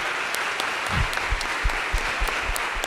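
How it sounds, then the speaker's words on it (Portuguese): An audience applauds together at a family conference, a dense, sustained clatter of many hands clapping with some louder nearby claps standing out. "Será que você pode aplaudir Jesus mais uma vez?"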